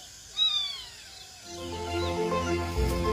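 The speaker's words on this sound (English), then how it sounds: "a rusty spotted cat" A rusty spotted cat, a small nearly grown male, gives a few high, thin meows that rise and fall, heard close over a quiet natural background with a low hum building later.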